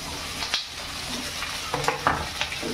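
Onion and capsicum stir-fry in a pan for paneer chilli, a steady close sizzle with quick clinks and scrapes of a spatula stirring through the short stretch.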